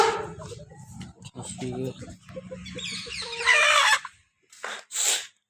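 Hens cluck and fowl call around a farm poultry area on a cold winter day, with someone talking over them through most of the stretch and a few louder bird bursts near the end.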